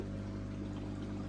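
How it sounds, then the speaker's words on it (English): Water poured into a home fish tank holding young fry, a steady continuous splashing stream with no talk, brief and fairly quiet. "Just gonna top up the water now, get another lot of water in there."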